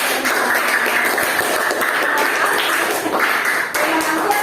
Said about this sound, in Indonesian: Kalau begitu kita kasih tepuk tangan juga sama kelompoknya Omi.